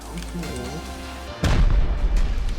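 A sudden loud explosion in the video game Rust erupts partway through, its rumble lingering over game background noise and a faint voice before it.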